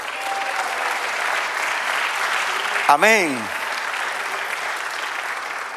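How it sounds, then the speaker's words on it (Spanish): A church congregation applauds during a service, producing steady, sustained clapping throughout, with a voice briefly calling out over it near the middle. "Denle un aplauso al Señor."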